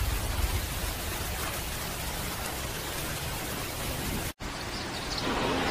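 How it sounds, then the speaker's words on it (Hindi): Heavy rain pours down steadily in a cartoon jungle, a dense, even hiss with one brief dropout near the end. "इतनी तेज बारिश, अल्लाह रहम करे"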